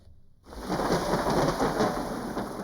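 A heavy rainstorm with thunder bursts in after a brief quiet, a dense steady hiss of rain falling on surfaces with a deep rumbling undertone, loud and continuous, with no voices.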